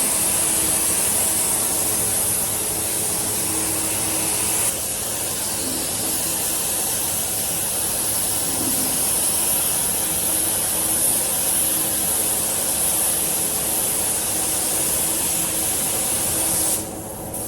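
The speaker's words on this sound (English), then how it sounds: "This is now the second coat of primer I'm putting on the Nova, so I'm putting it on pretty heavy" Vauxhall high build primer sprayed heavily onto a Vauxhall Nova as a second coat, a steady close broadband hiss running almost unbroken with a brief pause near the start and a trailing drop at the end.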